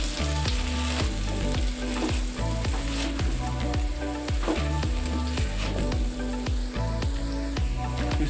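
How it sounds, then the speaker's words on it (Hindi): Spices are stirred into potatoes frying for dhaba-style jeera aloo, with a loud, constant sizzle and rhythmic scraping strokes of the spoon repeating through the whole stretch, and no voices. "अब इन सभी मसालों को अच्छे से मिक्स करेंगे।"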